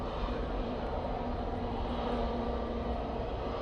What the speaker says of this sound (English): Aer Lingus touching down.